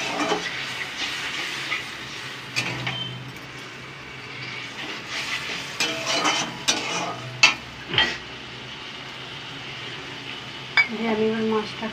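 A splash of water added to frying spice paste for fish curry, giving a continuous close sizzle with scattered stirring scrapes and clinks, and a short stretch of speech near the end.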